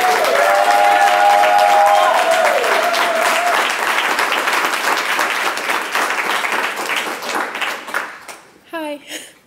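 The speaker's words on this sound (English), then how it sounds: "Give her a round of applause." Loud audience applause at a Poor People's Campaign teach-in, dense clapping from a crowd that holds steady then thins out and trails off near the end, with a brief tonal sound early on.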